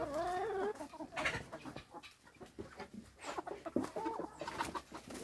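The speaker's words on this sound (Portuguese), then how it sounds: "Aqui tem um galinho, ó." A young rooster and hens clucking on a small Brazilian farm in the morning, with close, repeated clucks and short calls in an irregular rhythm, the rooster's higher crowing-like cries standing out at the start.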